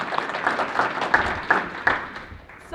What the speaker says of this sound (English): Let's give Joanie another round of applause.